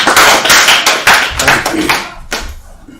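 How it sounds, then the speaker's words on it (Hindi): Audience at a Hindi poetry gathering (kavi sammelan) clapping loudly to welcome a poet, a dense burst of close applause that tapers off over a few seconds. "जोरदार तालियां बजाकर उन्हें आमंत्रित करिए"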